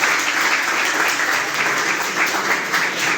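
Audience applause for a guest at a student organisation's district conference, dense continuous clapping from a large crowd, loud and even for the whole stretch.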